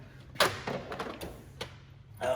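A metal tool-chest drawer slides open with a quick rattling scrape and clunk, followed by lighter clanks and shifting tools nearby, then a second rattle near the end.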